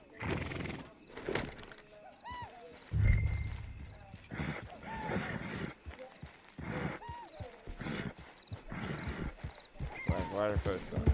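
Horses in the Red Dead Redemption 2 Online video game neigh and whinny loudly over clip-clopping hooves, with game characters talking over much of it.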